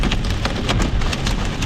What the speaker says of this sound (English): Oh, hail